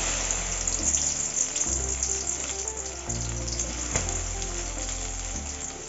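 Okra sizzles and fries steadily in hot sesame oil in a kadai, a loud, continuous crackle with no voices over it.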